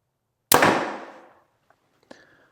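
A Hoyt Alpha X 30 compound bow fires a single shot with a loud sharp crack that rings down over about a second, then a faint tick and a small metallic clink follow, close and with no talking.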